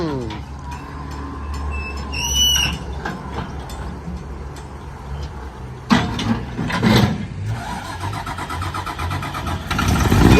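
Backhoe excavator engine starting, a cranking whine and catch building into a low, rough diesel rumble that grows louder toward the end, with clanks and people talking nearby.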